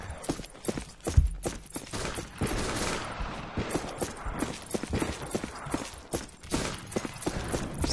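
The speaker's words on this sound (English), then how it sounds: "It's got very good sound for guns." Gunfire in the western shooter game Fistful of Frags, a dense run of sharp shots and rapid bursts over a busy game soundscape, loud and continuous throughout.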